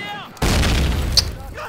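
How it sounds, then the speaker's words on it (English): A grenade bursts in the Call of Duty video game: a sudden loud, close blast with a deep rumbling tail lasting over a second, with brief shouted voices just before and as it fades. "Who's dropping the grenades?"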